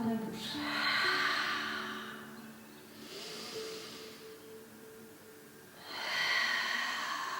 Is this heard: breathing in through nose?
yes